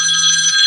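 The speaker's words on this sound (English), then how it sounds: "That phone's so loud it made my Doberman's whimper." A telephone bell rings loudly and continuously, a bright steady trill held for the whole moment with no talk over it.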